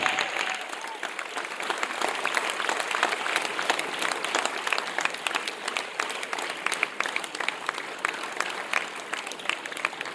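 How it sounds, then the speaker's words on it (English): An audience at a boys' school awards ceremony gives a long round of applause, steady dense clapping from a sizeable crowd that holds for about ten seconds, moderately distant. "Please give them all a big round of applause, ladies and gentlemen."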